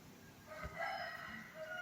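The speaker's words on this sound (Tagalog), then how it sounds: "patuka sa manok" Chickens cluck and crow nearby in a farmyard while being fed, with soft scattered pecking and background noise, no talking.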